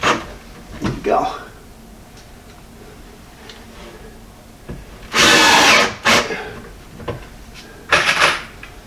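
A power drill drives screws into a clamped wooden cabinet for a storage center, with two loud whirring bursts of a second or so each amid scattered taps and handling knocks, close by.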